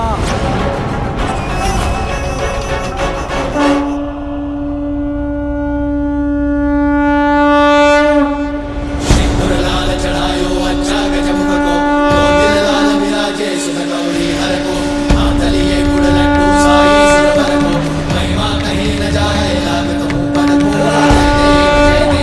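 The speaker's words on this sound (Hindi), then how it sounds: "नारायण के शंख की ध्वनि है" A conch shell blown in a long, sustained horn-like blast holds a steady tone over a dense, booming orchestral swell, loud and continuous with a brief break midway.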